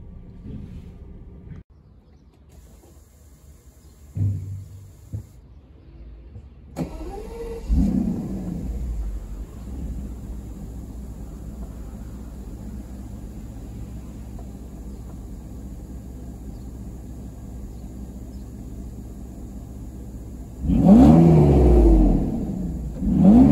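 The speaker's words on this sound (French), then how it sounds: "Et là le démarreur, écoutez bien." The starter of a Mercedes-Benz W140 600 SEL with M120 V12 whirs and cranks, then the engine catches and rumbles at a steady idle before revving loudly near the end.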